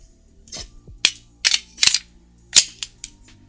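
A CZ 75D PCR Compact pistol is handled during a safety check, giving a series of sharp, close metallic clacks from the slide being worked, with short pauses between them.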